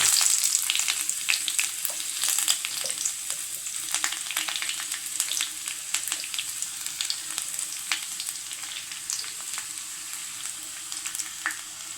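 Onions added to hot oil with mustard seeds for an onion theeyal, frying with a constant loud sizzle and scattered crackles up close, with no voices.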